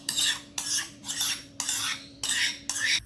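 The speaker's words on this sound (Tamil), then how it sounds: "இந்த மாதிரி ஒரு வலை கம்பி வச்சுட்டு இந்த மாதிரி நம்ம தயிரை அடிப்போம்" A wire whisk beats thick curd mixed with ground mango pulp in a bowl, giving six brisk, close strokes in a steady rhythm with a wet scraping swish and no voices.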